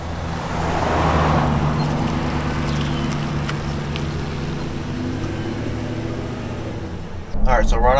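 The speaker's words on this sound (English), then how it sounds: "now let me take you guys for a drive in the truck" A lifted pickup truck drives along, heard from inside the cab as a steady low engine drone with road rumble, and a voice breaks in near the end.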